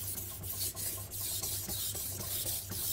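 A VG10 steel knife sharpened on a whetstone, with repeated rhythmic scraping strokes, a steady hissing rasp close up and alone.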